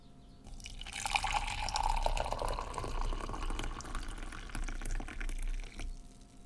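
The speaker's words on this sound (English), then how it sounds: "I have a hot water kettle that has preheated water. This part, I think you're going to be able to hear." Preheated water pouring from a hot water kettle, a steady trickling, splashing stream lasting several seconds at moderate closeness, with no voices, before stopping abruptly.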